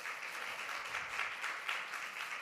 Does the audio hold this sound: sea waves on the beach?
no